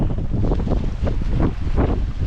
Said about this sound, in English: Very windy, but leave no trace as always.